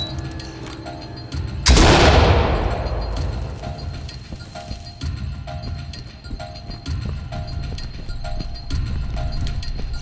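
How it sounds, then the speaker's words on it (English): A flashbang grenade detonates in the SWAT shooter game Ready or Not, a sudden loud bang that rings out and decays over a few seconds, followed by a lingering high tone and background game ambience. "Flashbang out."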